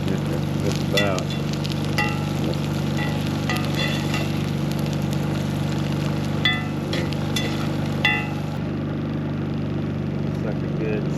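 Steaks searing over an open campfire flame, a constant sizzle and hiss under a steady low rumble, with a few faint clinks and rustles and occasional voices nearby.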